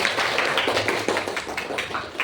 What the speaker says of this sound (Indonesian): kasih tepuk tangan untuk Hesti